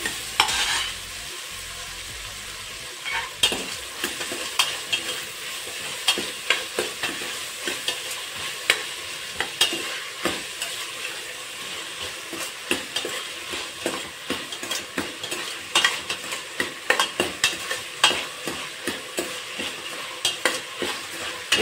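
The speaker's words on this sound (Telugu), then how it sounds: "కొంచెం బ్రౌన్ కలర్ వచ్చేంత వరకు, అంటే కొంచెం గోల్డెన్ కలర్ రావాలి, వచ్చేంత వరకు వేయించుకోవాలి ఆనియన్స్ అనేది" Chopped onions fry in oil and are stirred toward a golden brown for a mushroom biryani, with a steady hiss of sizzling and frequent scraping strokes of a spoon against the pan, continuous and close throughout, with no voices.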